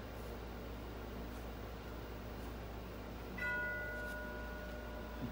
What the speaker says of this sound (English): We don't know who's ringing my doorbell.